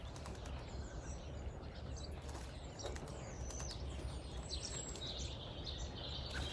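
A blackbird bathing in an English country garden, its wings flapping in rapid, soft bursts of fluttering close by, over steady low outdoor background noise with faint bird calls.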